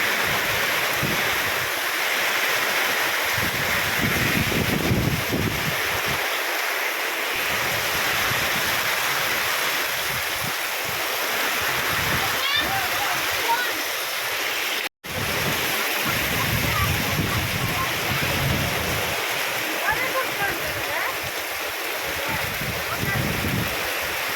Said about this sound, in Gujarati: પવન એટલો જોરમાંથી છે ભૂકા કાઢ નાખ્યા વરસાદે